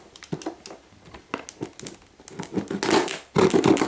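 A knife cuts through the plastic wrapping of a parcel, giving close crinkling, ticking and rustling sounds that build to a louder tearing scrunch at the end.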